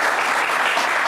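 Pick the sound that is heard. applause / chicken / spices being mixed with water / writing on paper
applause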